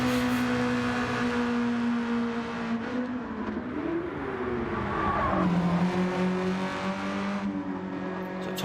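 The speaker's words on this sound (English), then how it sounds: "We'll be getting a little bit of a squeal on around there." A Red Bull Juniors racing car at Spa runs on medium tyres, its engine droning with pitch sweeps as it brakes and accelerates, and a sustained tyre squeal rises through the corner, heard alone and fairly loud.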